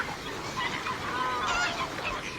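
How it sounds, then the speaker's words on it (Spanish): A large flock of coots calls from open water in the Ebro Delta wetlands, a dense, continuous chorus of overlapping honking and clucking notes at middle distance, fairly steady in loudness. "un enorme bando de fochas"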